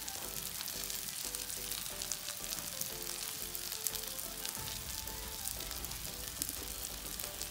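Egg and bread patties frying over medium heat in a pan, a faint, even sizzle with soft crackling pops running steadily from start to finish.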